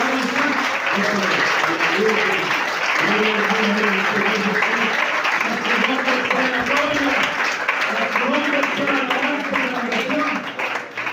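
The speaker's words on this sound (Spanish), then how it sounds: "que tiene un aplauso para darle a ese rey" Sustained applause from a church congregation during a Sunday school sermon, a dense, steady wash of clapping filling the whole stretch with voices and a sung or spoken line running underneath.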